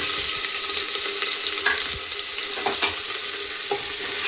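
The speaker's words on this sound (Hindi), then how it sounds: "ये जीरा डाल दिए है, प्याज और हरी मिर्च।" Cumin, onion and green chili hit hot oil in a village kitchen for pakode wali kadhi, a loud steady sizzle and crackle with a few soft clinks, no speech.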